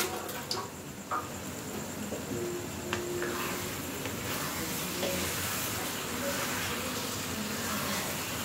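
Hot oil sizzling steadily in a pan for chicken kashmiri, a continuous close hiss with a few faint ticks and small clinks, and no speech.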